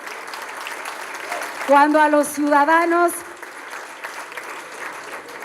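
An audience applauds steadily at a Mexican political speech, a broad clapping wash running throughout while someone speaks Spanish over it.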